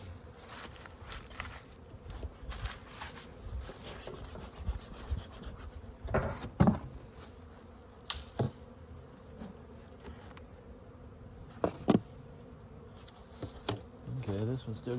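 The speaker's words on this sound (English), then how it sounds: "They all got bees coming and going." Honeybees hum steadily around winter beehives, a close, continuous buzz with several louder passes as individual bees fly near.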